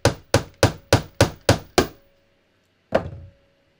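Seven sharp hammer blows land in a quick, steady rhythm, then a pause and a single final strike, loud and close.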